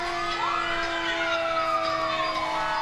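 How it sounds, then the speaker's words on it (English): A fire department siren wails during the Ramsey Happy Days Parade in 2015, rising and falling steadily and fairly loud and near, with no talking. "when you hear the siren"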